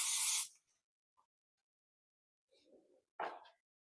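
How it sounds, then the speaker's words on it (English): Hairspray hisses onto styled bridal hair in a short, close burst of spray, then faint rustles follow and a second brief hiss comes after a pause. "we're just going to lock it in place with a little bit of the hairspray"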